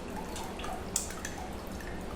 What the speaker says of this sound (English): I'm going to just strain it into here, get all those solids out of it